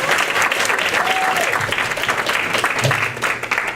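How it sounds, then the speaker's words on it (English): Steady audience applause at a school forum on the school-to-prison pipeline in Hempstead Village, a dense even clapping that fills the whole stretch at fairly loud level. "Can we give Mr. Saunders a big round of applause?"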